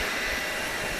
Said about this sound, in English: this United plane coming in from Houston, Texas